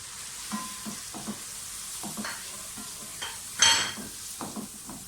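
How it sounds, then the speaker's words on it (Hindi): Ground spices sizzle and fry in ginger-garlic and green chili paste, with steady hissing under repeated stirring and scraping of a spoon against the pan. "लहसुन अदरक का पेस्ट, हरी मिर्चों का पेस्ट अच्छी तरह से भून जाए तो सारे मसाले डाल दें, पिसे हुए मसाले।"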